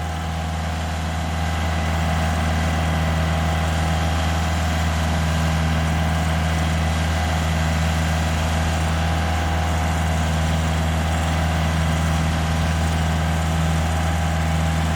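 A tractor engine works a rice paddy during deep plowing, giving a loud, steady low diesel drone and hum that runs unbroken throughout with no voices.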